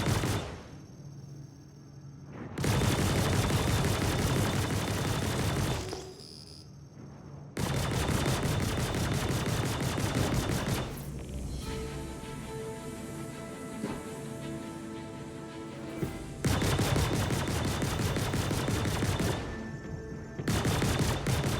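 Rapid gunfire from the Buccaneer ship's guns in the Star Citizen video game, several long loud bursts of continuous fire separated by brief gaps, with a shorter burst at the very end.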